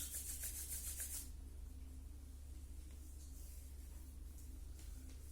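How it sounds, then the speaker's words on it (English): Two palms rub briskly together during a gratitude meditation, a close, soft rasping swish that lasts about a second and then fades into quiet room hiss. "Rub your hands."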